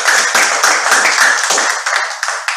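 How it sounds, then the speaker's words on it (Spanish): Applause thanking a speaker at the close of a class on class-based trade unionism, a small group clapping loudly and close, with uneven individual hand claps thinning out toward the end. "Señor Bustos, nuestro agradecimiento y un cariñoso aplauso para usted."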